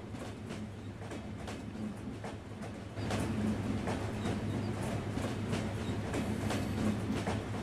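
The Banalata Express approaches Abdulpur junction in a PC train simulator game, a steady rumble of rolling wagons with faint rhythmic wheel clicks, growing slightly louder partway through.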